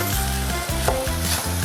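Onions frying and sizzling in a pan, a loud continuous crackle with a rhythmic pulsing hiss, close up and alone.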